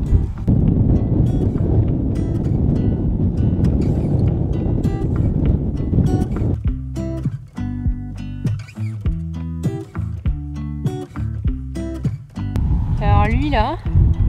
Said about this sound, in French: j'ai grave froid et a beaucoup de vent